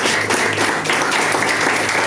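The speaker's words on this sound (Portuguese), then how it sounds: "Aplauda o Senhor" Worshippers at a communion church service applaud the Lord, a brief loud burst of continuous clapping from a crowd at close range.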